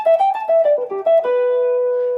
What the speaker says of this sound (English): So the first half of the lick sounds like this.